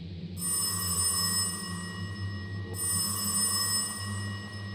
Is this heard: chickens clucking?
no